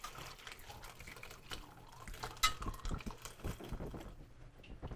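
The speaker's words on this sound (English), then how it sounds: "I'm just gonna use this to catch any of the herbs and pour it into my drippings pan." Herb-infused turkey drippings pour through a fine mesh strainer into a pan, making a soft liquid trickle with light metallic clinks of kitchenware, close and moderately loud, with no talk.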